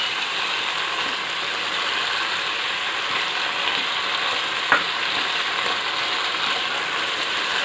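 Chicken karahi with chillies frying in a pan, a steady dense sizzle with one brief clink partway through, loud and continuous, no speech.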